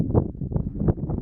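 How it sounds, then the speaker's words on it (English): Wind rushes across rocky desert hills, gusting against the microphone in a brief, close, muffled burst. "Sorry for the wind, it is normally windy here"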